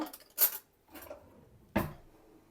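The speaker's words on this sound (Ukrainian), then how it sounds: "Так, беру ложку" A spoon clinks against a metal soup pot of broth a few times, sharp isolated taps with quiet gaps between them.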